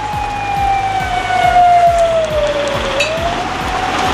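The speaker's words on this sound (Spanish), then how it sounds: "Las sirenas de alerta se encendieron." Alert sirens wail during a heavy-rain emergency drill in Santa María del Valle, Huánuco: one steady, slowly falling siren tone dominates, loud and continuous, over a background hiss like rain and a repeating low throb.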